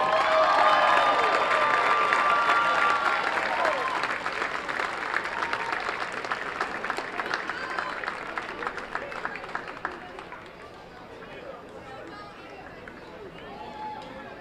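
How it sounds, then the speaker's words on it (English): Audience applause at a college baseball championship game honors Newberry's Elite 23 Award winner, a broad steady clapping wash lasting about ten seconds before thinning out, with a voice talking over its start. "One more round of applause for this year's Wealth Enhancement Group Elite 23 Award winner from Newberry, Lugo."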